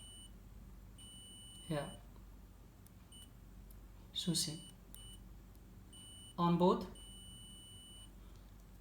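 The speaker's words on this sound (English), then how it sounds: "beep is coming, means this wire is okay" Multimeter continuity beeps while a mobile phone microphone wire is tested, three short tones about two seconds apart, quiet and close, with someone talking over and between them.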